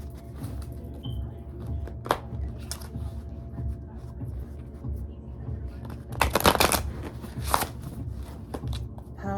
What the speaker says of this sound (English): now let me shuffle some more